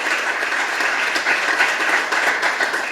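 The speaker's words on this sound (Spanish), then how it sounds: "Vamos a darle un aplauso a Jesús entonces." A church congregation bursts into loud, steady applause that fills the room, with dense overlapping clapping throughout and no talking over it.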